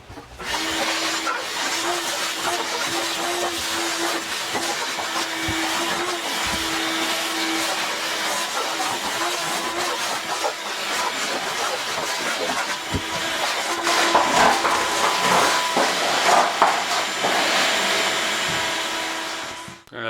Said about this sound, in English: I'm going to vacuum this all out.